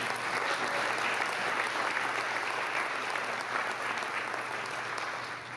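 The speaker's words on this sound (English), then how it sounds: "So we'd like to give them all a round of applause." Steady audience applause fills a school district convocation, a dense, continuous wash of many hands clapping at moderate distance, holding level for several seconds with no talk over it.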